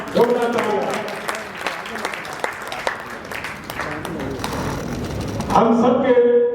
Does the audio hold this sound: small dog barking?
no